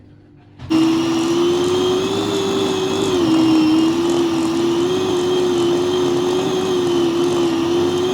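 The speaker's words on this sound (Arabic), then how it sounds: "دابا غادي نطحنوا غير هاد المكونات هادو" A food processor grinds Syrian falafel ingredients, including garlic. It starts abruptly and then holds a loud, steady motor whir with a constant pitch, with no voices.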